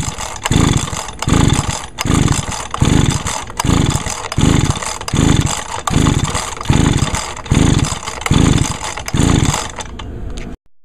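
Repeated pull-starting of an Echo PB-251 leaf blower with the throttle held wide open during a compression test: about twelve steady, evenly spaced cranking strokes, loud and close, with a constant mechanical whine behind them and no talking.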